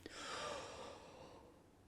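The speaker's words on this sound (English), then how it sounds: "First things first, huge inhale in." A single deep, drawn-out inhale taken before a beginner clarinet breathing warm-up, close and airy, tapering off after about a second and a half.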